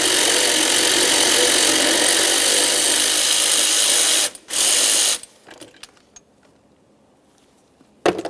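A hand ratchet loosens a 10mm intake manifold mounting bolt on a 2007-2017 Jeep Patriot 2.4L four-cylinder, a loud, close, rapid clicking that runs for several seconds, pauses briefly, then stops, with a few faint taps after.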